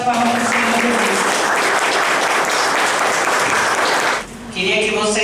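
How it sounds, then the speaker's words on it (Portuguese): A church congregation applauding, loud, dense clapping close by that runs for about four seconds, breaks off briefly, and then gives way to a voice. "Uma forte salva de palmas para o Senhor Jesus."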